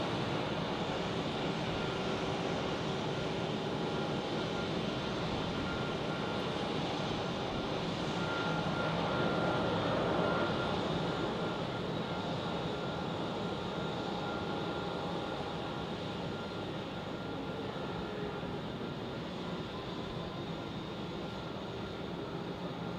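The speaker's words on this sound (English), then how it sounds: "here we have the Edelweiss A320 to Sharm el Sheikh" An Edelweiss Airbus A320 at foggy Zurich Airport gives a steady, broadband jet engine roar with a constant hum, moderately loud and unchanging for the whole stretch.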